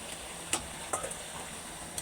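A spoon stirring mango pickle with water and spices in a pan, giving a few sharp scraping clinks spaced irregularly over a soft, steady sizzle, quiet and close with no voices.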